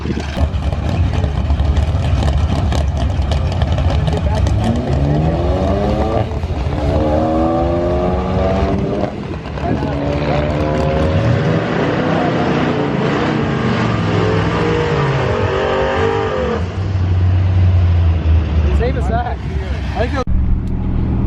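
A Ram 1500 pickup truck at a dragstrip gives loud, continuous engine drone with rising and falling revs as it accelerates, close and dominant, while people talk over it.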